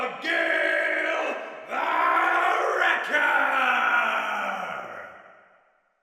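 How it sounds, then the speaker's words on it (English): A large crowd roars and yells at a boxing fight, two sustained swells of cheering with a brief dip between them, then fading away near the end. "Again, the crowd went wild."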